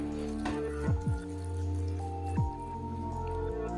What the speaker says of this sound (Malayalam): എന്നിട്ട് അത് നമ്മൾ നല്ല ക്യാരറ്റുമായിട്ട് പറ്റി പിടിക്കാനായിട്ട് നമ്മൾ മിക്സ് ചെയ്ത് കൊടുക്കണം.